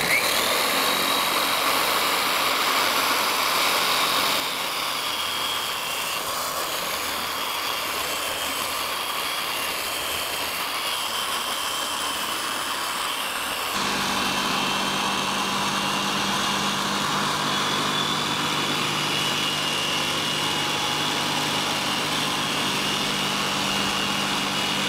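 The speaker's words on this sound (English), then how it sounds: "put my machine right on the surface and I'm going to spread it out on speed setting 1." Cyclo Model 5-Pro dual-head orbital polisher running steadily on car paint, a continuous close whirring drone that changes pitch partway through as the speed setting shifts.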